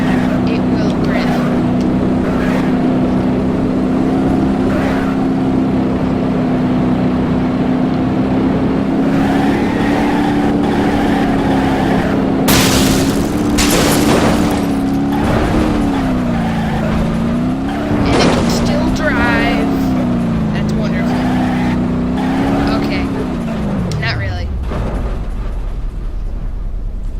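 A car drifts in the BeamNG.Drive driving game, its engine holding a loud, steady high-revving tone that wavers through repeated slides before dropping off at the end, with tire squeals and bursts of noise, under occasional talk.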